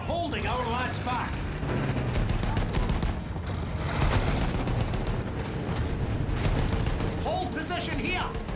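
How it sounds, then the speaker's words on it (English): Battlefield 1 battle scene with sustained machine gun fire and field gun blasts, a dense continuous barrage of loud gunfire throughout, with shouted voices briefly at the start and near the end. "Those machine guns are holding our lads back."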